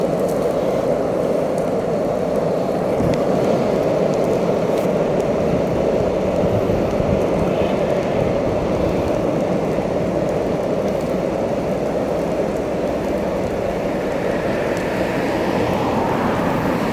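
Longboard rolling steadily on bearings packed with thick grease, a continuous dense rumbling roar of wheels on pavement that stays loud and even throughout, with no voices.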